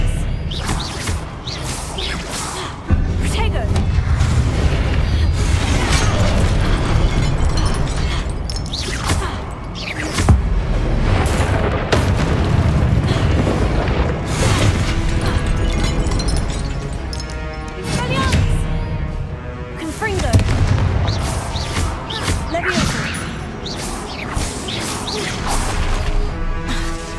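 Hogwarts Legacy spell effects crash, whoosh and thud repeatedly throughout a long stretch of combat, mixed with game sounds and a voice talking over them.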